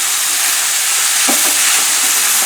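Shrimp fry in a wok for shrimp chow mein, giving a loud, steady, close hiss of sizzling with faint stirring knocks partway through.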